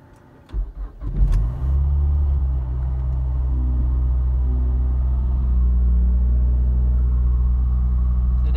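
A Mazdaspeed 3 engine with a newly installed rear motor mount cranks and starts, then settles into a steady, deep, close idle rumble.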